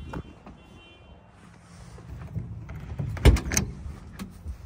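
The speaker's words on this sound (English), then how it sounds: "Let me close this door" A van side door on a truck-mounted carpet cleaning rig slides and slams shut, with a low rumble building into a sharp close thud and rattle, then some lighter clunks.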